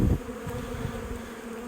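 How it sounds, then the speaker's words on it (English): Honey bees swarm and buzz around an open hive box outdoors in a light breeze, a steady close droning hum with a brief louder burst at the start. "I could shake all the bees off"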